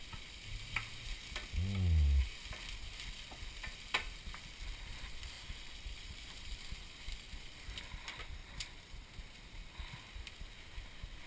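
Spinach frying in a pan, a quiet continuous sizzle with scattered stirring clicks and one brief louder low rumble early on, no talk.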